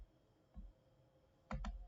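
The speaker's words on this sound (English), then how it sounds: "So now we will click on play button" A computer mouse clicks on a video play button, a faint tap followed by a quick double click in a quiet room.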